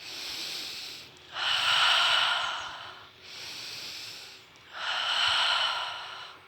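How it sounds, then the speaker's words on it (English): A person breathes slowly in through the nose and out through the mouth, two full cycles of soft, airy inhales followed by louder, brighter exhales, close and with no talking. "breathing in through the nose and breathing out through the mouth"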